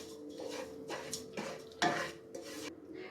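Semolina halwa with sugar and oil being stirred in a pan, a few distinct scraping and clinking strokes of a spoon against the metal with a faint sizzle underneath, close and fairly quiet.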